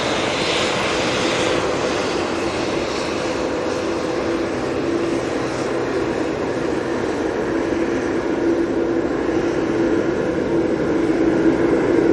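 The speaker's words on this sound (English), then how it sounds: "Have a look at this beautiful Dreamliner" A Boeing 787 Dreamliner jet airliner at Manchester Airport gives a steady, loud engine roar that holds evenly and swells slightly toward the end, with no voices.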